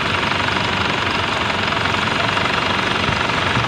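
An Isuzu Altera engine idles outdoors, a steady loud close-up drone with an even rumbling throb and no pauses.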